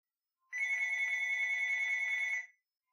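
A phone rings for about two seconds, a bright electronic bell-like tone starting abruptly and cutting off cleanly, heard alone against silence.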